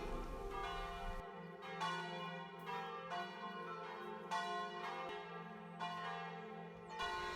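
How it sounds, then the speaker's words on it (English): Church bells peal repeatedly in a steady overlapping rhythm, ringing clear and resonant at a moderate distance with no voices. "The church bells rang for 15 minutes"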